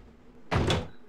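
A door opening in Resident Evil Code Veronica, a single close, heavy thunk with a brief scraping swing, standing alone over a quiet game ambience.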